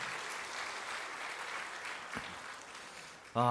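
A church congregation claps steadily during a Good Friday service for a few seconds, the applause even and sustained before fading, then a voice starts abruptly.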